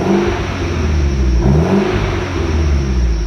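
A Mitsubishi Evo X with its stock exhaust revs up loudly close by, the engine climbing and falling in a throaty rumble.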